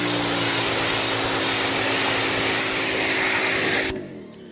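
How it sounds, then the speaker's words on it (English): A pressure washer sprays dried off-road mud from a Toyota Land Cruiser treated with a ceramic spray coat, giving a loud, steady broadband hiss with a motor hum beneath that cuts off abruptly near the end. "Well, that's just power washing it."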